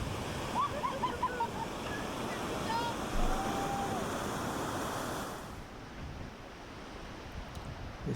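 Rushing whitewater of the Illinois River rapids at 650 cfs roars continuously as a paddle boat runs through, with wind buffeting the microphone, fading slightly toward the end.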